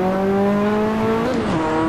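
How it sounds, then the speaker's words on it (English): Ferrari F40 in the Assetto Corsa racing game, a loud, sustained engine drone with a steady harmonic tone that dips and shifts near the end as the revs change. "loud engine sound"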